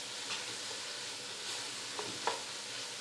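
Tomato puree with tuna is stirred in a hot pan for a Mediterranean tuna dish, a steady sizzle with a few brief scraping strokes near the end.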